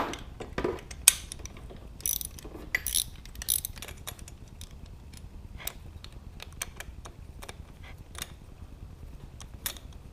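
A KTM RC390's ignition cylinder is being worked free from the triple tree. Soft, quiet ratcheting clicks and small metallic ticks run steadily, close by, with a few louder rattles early on.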